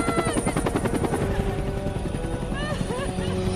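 A military helicopter lifting off to leave an area, its rotor thumping steadily and loud throughout, with other noise and voices mixed in underneath.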